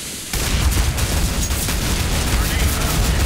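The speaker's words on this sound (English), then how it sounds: "Throwing a grenade." Grenade explosion in Counter-Strike: Global Offensive, a sudden loud blast that kicks in early and rolls into a dense, sustained rumbling roar lasting to the end.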